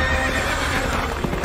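Whinnying and clip-clopping of cartoon space horses in an animated Star Wars parody, a loud, continuous burst of neighs over steady hoofbeats with no talking.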